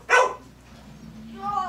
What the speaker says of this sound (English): We have a dog that's going off trying to eat dinner.